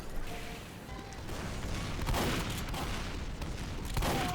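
Gunfire in a Team Fortress 2 style shooter is aimed at a demoman, heard as a dense rumbling barrage of shots and booms that carries on steadily throughout without speech.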